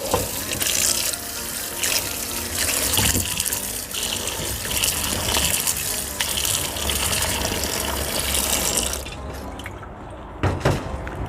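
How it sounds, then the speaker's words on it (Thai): Tap water gushes steadily over raw bananas being rinsed for salted banana chips, a loud continuous splashing stream close by that tapers off near the end, with no talk. "เททิ้งค่ะแล้วก็ล้างน้ำเปล่าอีกรอบค่ะ"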